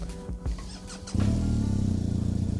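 A 2023 BMW 1250 GS motorcycle engine catches and settles into a steady, close, throbbing idle with a rhythmic low pulse, following a few brief clicks and rustles.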